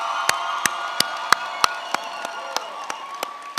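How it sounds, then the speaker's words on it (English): Crowd of graduates at a university graduation ceremony applauding and cheering, a broad sustained wash of clapping and voices with a series of sharp, evenly spaced claps cutting through, fairly loud throughout. "Graduates, give yourselves another round of applause."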